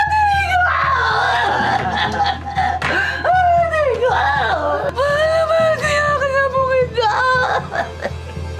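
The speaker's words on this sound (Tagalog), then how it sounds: "Sa tindi ng kanyang mga hiyaw at tili" A 48-year-old woman screams and shrieks in distress, loud and continuous with rising and falling wails, over background crowd noise.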